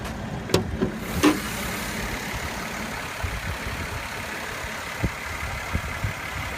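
A 2016 Mercedes-Benz GLE 350 with a 3.5-liter direct-injection V6 idles with the hood open, giving a low, even hum with a few faint clicks and taps on top.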